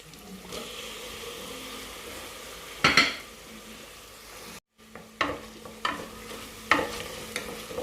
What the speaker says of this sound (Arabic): نخليوها تشحر غير شي شويه بلا ما تحرق لينا الثومه. غادي نضيف مطيشه،